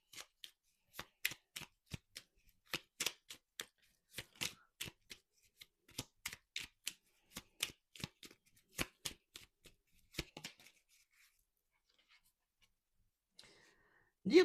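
A deck of oracle cards, the oracle des plumes, is shuffled by hand. Soft, close riffles and flicks come in an irregular rhythm for about ten seconds and are followed by quiet.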